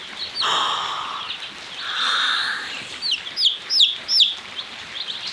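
One-week-old baby chicks peep in a rapid series of high, bright chirps, some up close and loud, with softer cheeping in the background and no talk.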